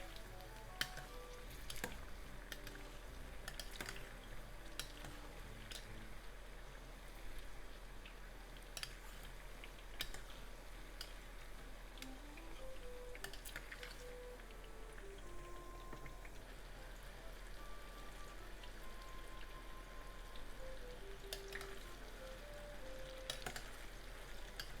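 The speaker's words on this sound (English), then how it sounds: "And just fry them until it's slightly browned." Eggplant slices frying in a pan for miso soup, a quiet steady sizzle with scattered crackles and pops throughout, faint and close, with a low hum underneath and no talk.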